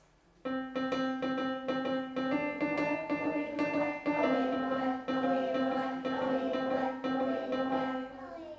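A single voice sings a sustained tenor harmony line on steady held notes, a repeating rhythmic phrase with short syllables, close and clear without accompaniment.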